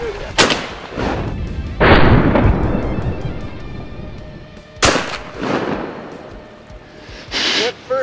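Shotguns fire while hunting Canada geese at a pond, several loud, close blasts in an uneven sequence with booming echoes, a couple landing close together, with brief gaps of outdoor quiet between them.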